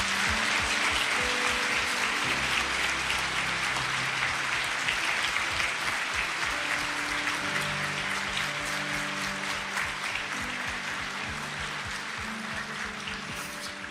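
Sustained applause from a crowd, many hands clapping densely and loudly throughout, fading slightly toward the end.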